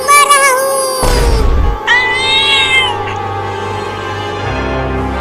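A cartoon kitten meows in a string of loud, drawn-out, wavering cries over a low musical hum, with one pause partway through.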